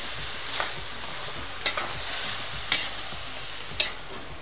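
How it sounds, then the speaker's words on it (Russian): Cabbage bigos with prunes is stirred in a cauldron over a campfire, a constant frying hiss broken by four sharp scraping knocks of the utensil against the pot, close and with no talking. "Перемешиваем."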